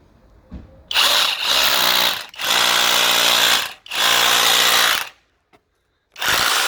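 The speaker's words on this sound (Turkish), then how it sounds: "şimdi deleceğimiz duvar ateş tuğlası" A cordless rotary hammer drill runs loud and close in three long bursts separated by short pauses, then starts again after a brief silence, grinding steadily through an old firebrick wall.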